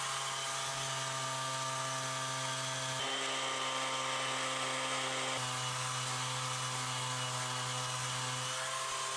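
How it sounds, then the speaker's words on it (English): A power sander hums steadily and loudly over a wooden table where dowels were trimmed flush, a constant motor whine whose pitch shifts slightly midway as it is pressed to the wood, with no voices. "Where I trimmed these dowels off, I just need to give it all a sand down."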